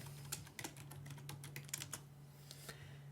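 A computer keyboard clicks through a quick burst of keystrokes, close and quiet, as a command is typed; the rhythm is irregular and trails off before a couple of final taps.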